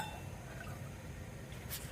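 Water pours steadily into a pot of rice for ghee rice with a soft, continuous liquid trickle, faint and unaccompanied by talk.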